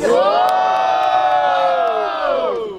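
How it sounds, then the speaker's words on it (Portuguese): A large crowd at a student rap battle in Guarulhos, Brazil cheers and shouts together in one sustained roar, loud and close, swelling and then fading slightly at the end. "Barulho pra quem gostou da rima do DG!"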